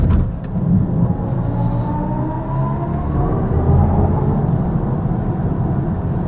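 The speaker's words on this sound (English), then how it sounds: "Unfortunately, Sport mode amps up the fake sound." Synthetic engine tone from a 2025 BMW i4 electric car in Sport mode, a steady humming drone with slowly rising pitch sweeps over continuous road and tire rumble while the car accelerates, no talking.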